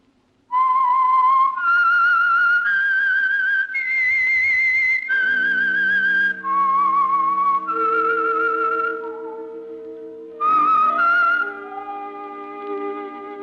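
A clear, loud whistled melody of sustained notes rises and falls, later joined by a low accompanying instrument line.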